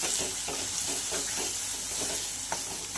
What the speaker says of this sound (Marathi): आणि तेल रिलीज होईपर्यंत आपल्याला हे फ्राय करून घ्यायचं आहे।